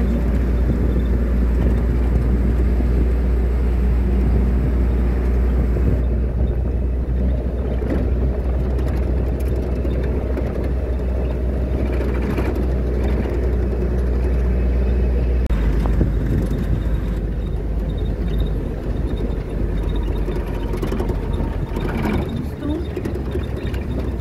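Soviet GAZ off-road vehicle driving on a rural track near a small stream, with a steady low engine rumble throughout that drops away partway through as it slows, while people talk over it.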